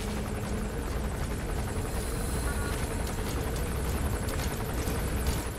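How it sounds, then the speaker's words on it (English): Helicopter in the video game Metal Gear Solid 5, a steady loud rotor drone with a low thudding pulse running throughout, mixed with windy sandstorm noise and no speech. "Fucking helicopter."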